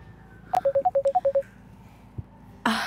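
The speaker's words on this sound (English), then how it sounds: "I didn't know my phone was non-silence." A mobile phone goes off in a classroom with a quick run of about ten clear, evenly spaced electronic tones, loud and close, followed by a brief thump and a burst of noise.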